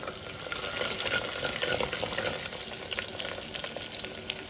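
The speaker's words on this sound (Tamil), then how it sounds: "ஒரு ட்ரிப்பு கொஞ்ச நேரம் பொரியட்டும் இப்போ பூண்டு போட்டுடலாம் பூண்டு அதுக்கப்புறம் கருவேப்பிலை" Garlic frying in hot oil in a pan, a loud continuous sizzle and crackle close up with faint stirring throughout.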